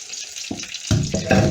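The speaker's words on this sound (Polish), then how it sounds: "tłuszcz gorący kładę jedno i drugie i niech się smaży." Hake fish pieces frying in hot fat give off a loud, bright sizzle that swells in bursts as the fish settles into the pan. Nobody talks.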